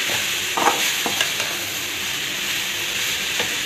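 Soya shawarma filling fries in a pan with a steady, soft sizzle and hiss, broken by a few light stirring scrapes, close and alone without talk.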